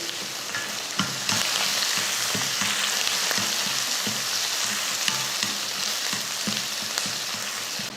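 Onions, green chillies and curry leaves sauté in a pan for a South Indian breakfast dish, giving a steady loud sizzle with occasional stirring scrapes throughout, close and without speech.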